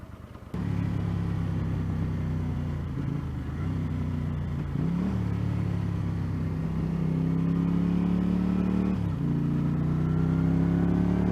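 A 1981 Honda GL500 Silverwing Interstate motorcycle rides along with a loud, continuous engine drone, its pitch rising and shifting through gear changes as the bike accelerates, close to the rider with no voices.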